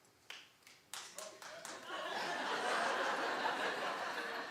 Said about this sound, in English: clap if you think that this is a great idea.